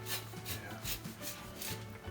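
A zester rasps against a surface in quick, regular rubbing strokes, soft and close, about a dozen scrapes in two seconds.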